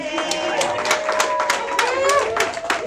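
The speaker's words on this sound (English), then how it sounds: "Give them a round of applause." Rhythmic hand claps from an audience after a performance, sharp and evenly spaced about three per second, mixed with sustained tonal voices.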